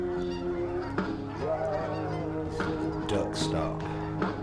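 A flock of ducks honks and quacks close by in a loud, continuous overlapping chorus, with a person talking over it.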